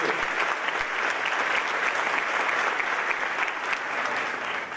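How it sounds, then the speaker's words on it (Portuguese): Sustained applause from a church congregation, steady and dense throughout, loud and evenly spread with no talk rising above it. "dê um grande aplauso ao Senhor Jesus"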